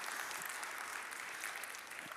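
A church congregation applauds the choir after a hymn, steady and even clapping from many hands, fairly faint and distant, filling the whole stretch without a break.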